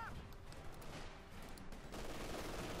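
An MG42 machine gun firing in Company of Heroes 2, a fairly faint, continuous rattle of rapid shots blended into battlefield noise, with a slight lift in intensity toward the end.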